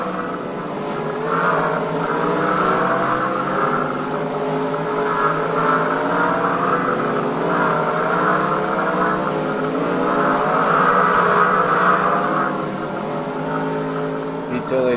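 Stock race cars accelerate off pit road during a Pocono series race, their engines a steady droning whine with shifting tones. Other voices or crowd noise may be mixed in beneath.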